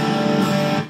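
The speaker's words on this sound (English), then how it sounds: "make sure that you're not accidentally strumming any of the other strings when you do this" A messy electric guitar strum rings out as a sustained, dense chord, with unwanted strings sounding along with the intended ones. It is loud and close, fading out at the end.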